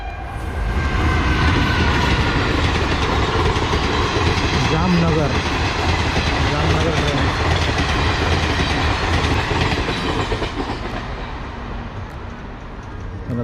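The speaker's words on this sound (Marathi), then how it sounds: "आली आली ट्रेन आली लवकर लवकर आली" A train rolls past a level crossing, a loud sustained rumble with rhythmic wheel clatter close by lasting over ten seconds, while people talk over it.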